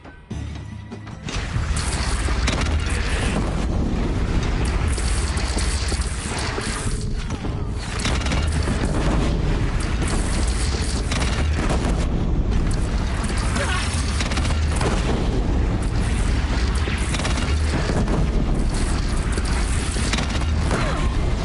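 Heavy cannon fire and crashing booms in a video game battle at a bridge, loud and continuous with rumbling blasts and impacts throughout, with voices shouting briefly over the din.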